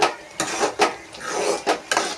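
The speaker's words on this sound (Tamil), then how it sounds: "அடி பிடிக்காத அளவு கிளறி விட்டுக்கலாம்" A spoon scrapes and clinks against a cooking pot of egg curry in quick repeated strokes, about six sweeps in two seconds, close up with no talking.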